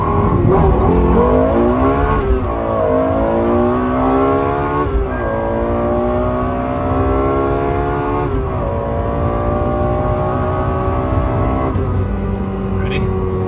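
Tuned Ferrari engine revs hard and accelerates through several gear changes, loud and close from inside the car, each pull rising in pitch before dropping at a shift, with a voice talking over it.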